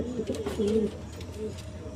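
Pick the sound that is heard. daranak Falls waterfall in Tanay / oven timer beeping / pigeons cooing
pigeons cooing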